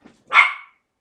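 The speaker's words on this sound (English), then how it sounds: "if you hear something, it's just my puppy behind me" A puppy gives one short, sharp bark from just behind a green screen indoors, fairly close and loud, with silence before and after and no talking.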